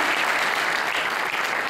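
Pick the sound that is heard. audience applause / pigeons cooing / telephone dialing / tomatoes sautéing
audience applause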